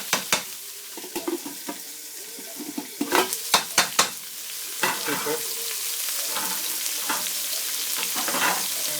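Whole onions and green chillies dropped into hot oil for biryani, a burst of crackling and pan clatter at first, then settling into a steady loud frying sizzle, close by with no speech.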